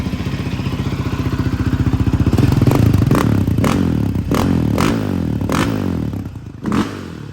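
A Yamaha Raptor 700R SE ATV with an aftermarket exhaust revs hard toward redline, its loud, close engine note climbing and pulsing, then dropping with a few sharp blips. No one speaks.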